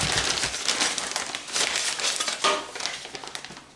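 A gallon plastic bag crinkles and rustles in irregular bursts as it is handled up close, loud crackly scrunching with no one speaking.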